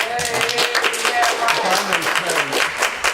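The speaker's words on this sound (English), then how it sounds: "I appreciate the applause" A crowd applauds, many hands clapping in a dense, sustained patter that holds fairly loud throughout, with some voices mixed in.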